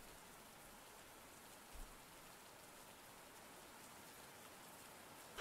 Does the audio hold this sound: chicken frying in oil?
no